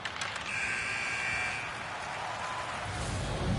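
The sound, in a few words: hockey period-ending buzzer, NHL 26 video game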